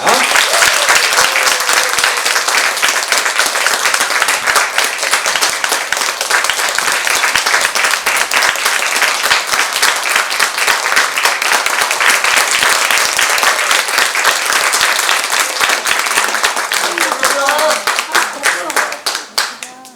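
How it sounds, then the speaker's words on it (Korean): Loud, dense audience applause at a traditional Korean pansori performance as the singer and drummer are welcomed onto the stage, continuous clapping that runs strongly throughout and tapers slightly at the end. "큰 박수로 무대 위로 모시도록 하겠습니다"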